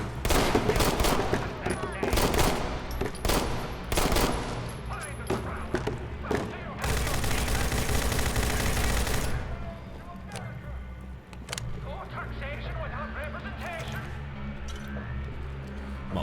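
Modern weapons fire in modded Fallout 4, with rapid loud bursts of shots and thumping impacts, a long sustained volley that then thins to scattered distant pops while a voice talks over it.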